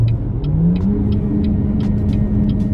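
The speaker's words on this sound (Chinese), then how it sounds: "发动机会开始有很不寻常的疯狂咆哮声" A BYD hybrid car's engine roars abnormally hard at around 100 km/h, a loud, sustained drone with a rising whine, heard from inside the car while it drives, with faint ticking over the engine.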